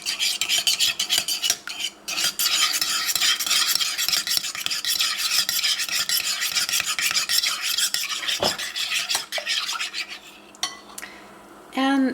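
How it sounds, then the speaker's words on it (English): A spoon beats one egg rapidly in a bowl, giving a continuous scraping, clinking rhythm with a few brief pauses, close and fairly loud, no voices. "I've got 1 egg, and I'm going to whisk it about with the spoon."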